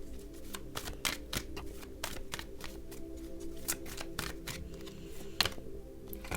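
Tarot cards are shuffled and handled in a series of quick, crisp, close flicks and snaps over about six seconds, faint and uneven in rhythm, with no voices.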